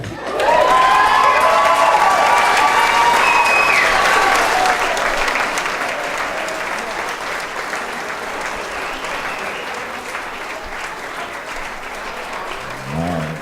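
Wedding guests at a toast burst into loud applause and cheering, with whoops and raised voices up front, then settle into steady sustained clapping that carries on evenly to the end.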